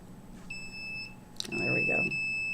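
A home smoke detector's alarm sets off a high, steady electronic beep in short tones and then a longer sustained tone, heard fairly close over faint room noise, with voices and movement partway through.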